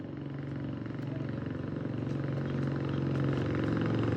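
Two motorcycles carrying soldiers approach together, a low throbbing engine rumble that grows gradually louder as they near.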